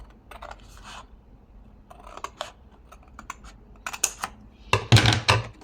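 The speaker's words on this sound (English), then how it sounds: "I'm just going to cut it in the middle." Scissors snip through paper scraps for a junk journal card in a series of short, crisp cuts, sparse at first and then louder and closer together toward the end, with no talking.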